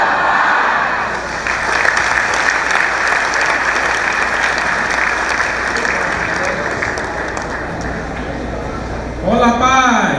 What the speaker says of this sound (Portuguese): Essas palmas foram muito fracas.